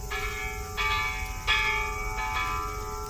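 A bell rings out at the Hiroshima peace memorial near the Atomic Dome on a sunny riverside day, its sustained metallic tones struck several times with long resonant decay over a steady low outdoor rumble.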